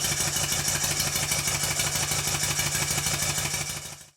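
A motorcycle engine idles smoothly and evenly, a close, steady mid-pitched running note with a fine regular pulse, then cuts off abruptly at the end.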